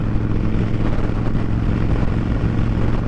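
A Kawasaki Vulcan motorcycle with louder aftermarket pipes rumbles loudly and continuously with a deep, throaty exhaust note, close by and steady throughout.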